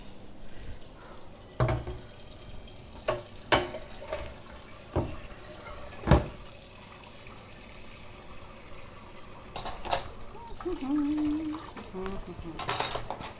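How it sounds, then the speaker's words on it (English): Running kitchen tap rinsing an item during a Turkish bread cooking session, water splashing briefly near the end amid scattered clinks of dishes and cutlery, close but moderate. "I think I'm going to give this a quick rinse."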